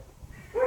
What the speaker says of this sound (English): The dogs are barking for a reason,